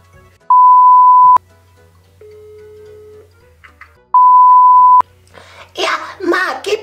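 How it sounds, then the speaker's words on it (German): Telephone ringing tone on a prank call, two long steady beeps separated by a lower dial tone, followed by a person starting to speak on the line. "Ich rufe jetzt hier bei Regina und Marc an in"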